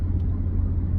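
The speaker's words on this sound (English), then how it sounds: "I'm driving in 90 now" Y62 Nissan Patrol cruising slowly on a highway, a loud steady low rumble of engine and road noise filling the cabin with no break.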